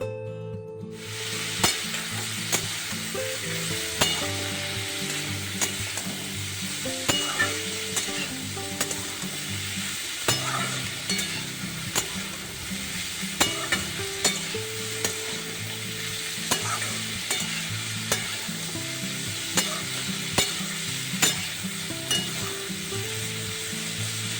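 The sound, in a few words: spices and vegetables frying in a wok for chowmein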